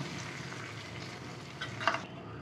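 Hot tempering poured onto buttermilk spinach in a pan and stirred in, a soft steady sizzle with a few sharper crackles and spoon scrapes, heard alone up close.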